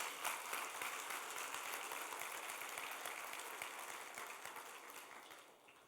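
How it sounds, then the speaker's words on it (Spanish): A church congregation applauds the Lord during a Sunday sermon: a dense, crackling patter of many hands, fairly close, fading gradually toward the end. "Si quiere, aplaude al Señor"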